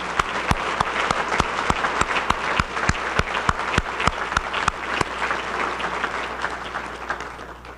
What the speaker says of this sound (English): Let's give our airman nominees a round of applause